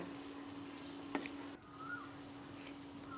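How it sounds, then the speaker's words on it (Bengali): Fried potatoes and jackfruit are stirred in a pan, giving an even, fairly soft frying hiss with a low steady hum and a single sharp utensil clink partway through. "দিয়ে দিলাম ভাজা আলু আর কাঁঠালগুলি এবার নেড়ে চেড়ে মিশিয়ে নেব"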